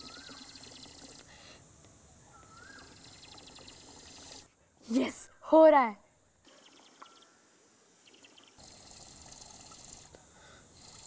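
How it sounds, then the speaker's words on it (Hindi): Air pushes water from a raised glass out through a drinking straw. Two short, bubbly gurgling spurts come close together midway through, with quiet talk and soft room noise before and after. "इस स्ट्रॉ की मदद से ऊपर वाले ग्लास को खाली करना है।"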